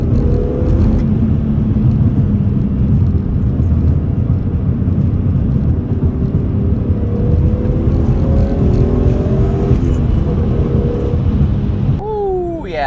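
A BMW E46 M3 on the road, its engine droning steadily and loud from inside the cabin, with a low rumble throughout and a brief rising whine near the end.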